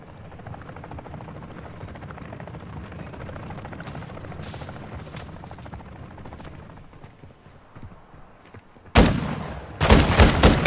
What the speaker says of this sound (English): the enemy attack helo is approaching your location